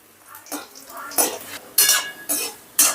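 Raisins and cashews frying in a pan are stirred in several sharp, close metallic scrapes and clinks, with a light sizzle underneath.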